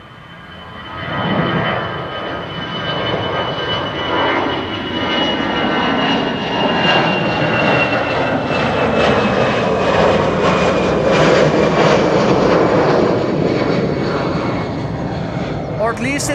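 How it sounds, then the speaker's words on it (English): EasyJet airliner in a shallow initial climb after departing Schiphol's runway 24, the Kaagbaan: a loud, steady jet engine roar that swells and holds for the whole stretch, with a slowly sliding whine on top. "Shallow climb of the EasyJet."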